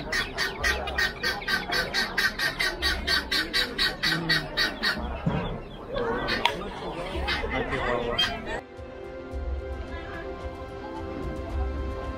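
Chickens and turkeys squawking and chattering in a busy, rhythmic run of calls, close by, with voices talking over the noisy background of a mixed animal market on the Mexico–Guatemala border.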